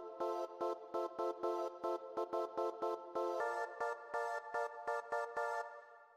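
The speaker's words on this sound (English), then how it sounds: "So like I said, this is just a choir sample," An old-school choir sample for Chicago deep house plays alone as stabbed chords, about a dozen short rhythmic hits of sustained voices that shift to a higher chord midway, then fade out at the end.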